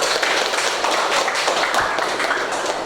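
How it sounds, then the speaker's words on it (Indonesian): A classroom audience applauds a student named Rahma with a steady, dense patter of clapping that holds at an even level from start to finish. "tepuk tangan untuk Rahma"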